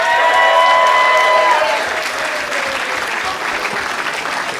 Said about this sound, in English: Let's all give a round of applause for Miss Sam Leterna.